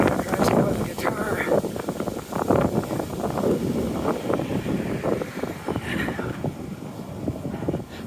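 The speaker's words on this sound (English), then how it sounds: "it's very windy." Gusty wind buffets the microphone on a cold, windy walk through a city neighbourhood, a steady low roar that swells and eases, with a person talking close over it.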